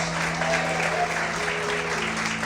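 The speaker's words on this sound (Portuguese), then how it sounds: "Você pode aplaudir o Senhor" Sustained applause from a church congregation, many hands clapping in an even, continuous roar over a low held musical drone, with faint voices mixed in.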